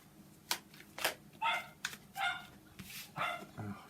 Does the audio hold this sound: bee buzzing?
no